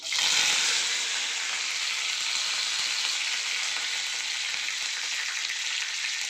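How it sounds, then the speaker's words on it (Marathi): Hot oil with spices spluttering for tempering spits and crackles steadily, a loud, continuous sizzle with a sharp burst at the start. "आपली फोडणी उडालेली आहे मी आता कढीपत्ता टाकून घेतो"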